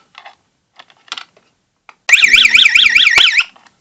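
Fire alarm sounder at a small-room call point test gives a loud, rapidly warbling electronic tone for about one and a half seconds, preceded by a few soft clicks and handling knocks.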